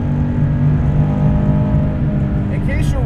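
A Guntherwerks 400R, a lightweight 431 hp restomod, holds its engine at high revs above 4,500 RPM in a loud, steady, close-up drone with a buzzing harmonic whine, while a voice talks over it.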